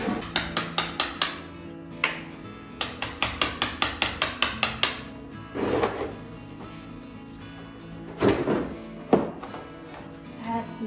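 A hammer strikes a chisel on cupboard wood in quick rhythmic runs of sharp taps, then a few louder, scattered knocks and scrapes at close range, with no talking, during a budget cottage-style kitchen panelling makeover.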